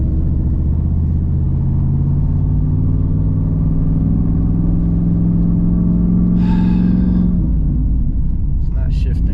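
Car engine in a Z28 fitted with a 700R4 transmission that fails to shift, revving loud and steady at high rpm for several seconds before dropping off, then a brief faint clatter.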